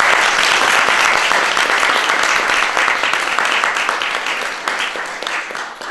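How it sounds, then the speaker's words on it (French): Sustained applause from a literary evening audience, a dense, steady wash of many hands clapping for about six seconds and fading slightly toward the end, with no voices on top. "mais que je vous demande de réapplaudir une nouvelle fois"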